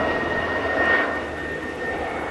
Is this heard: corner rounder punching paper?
no